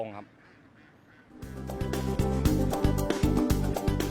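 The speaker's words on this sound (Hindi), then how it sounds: "बतखें वापस अपनी गाड़ियों में सवार हो रही हैं" A flock of farm ducks quacks loudly and constantly, the dense repeated calls breaking in suddenly after a quieter moment and carrying on up close.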